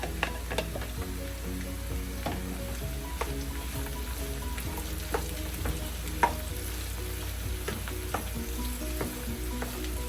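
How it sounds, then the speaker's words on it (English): Diced potatoes and onions sauté in a pan with a strong steady sizzle, punctuated by frequent sharp scrapes and taps of a utensil stirring, close up and with no talking. "I'm going to put the onions in right now and let those saute with the potatoes"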